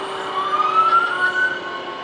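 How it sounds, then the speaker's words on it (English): Maiden Fire Department engine number 3 sounds its siren in a Christmas parade, a steady wail rising slightly in pitch over a rumbling engine and crowd background, fairly close and loud. "followed by the Maiden Fire Department, engine number 3."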